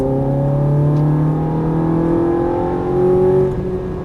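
A Ferrari F430 or Nissan GT-R accelerating on a coned driving course, engine note climbing steadily in pitch, loud and close, with a second surge of revs toward the end before easing off.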